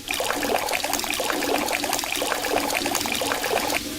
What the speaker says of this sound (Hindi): पानी फिर से आ जाता है।